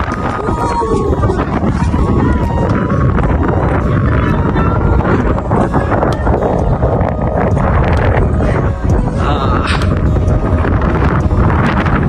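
Strong wind buffets the microphone in a continuous loud roar, with voices faintly underneath.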